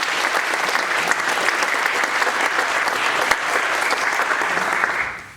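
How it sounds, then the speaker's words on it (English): Steady, dense applause from an audience at an annual town meeting, honoring the mayor, sustained for about five seconds and then tapering off at the end. "if we could give a round of applause for Mayor"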